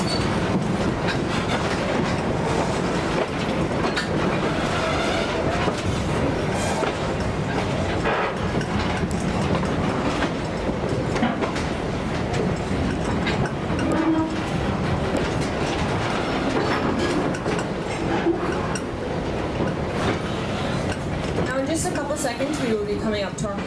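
A museum train rolls steadily along its track with continuous rumbling and clickety-clack from the wheels, a wheel squeal near the end, and voices talking under it throughout; no distinct horn blast stands out.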